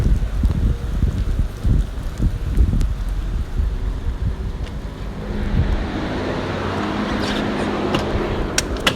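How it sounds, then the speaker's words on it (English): Rain beginning to fall outdoors, a soft broadband patter and hiss that builds steadily, with rough wind-like rumble and handling noise early on before the wash of falling drops takes over. "I'm gonna have to move around because it's starting to rain"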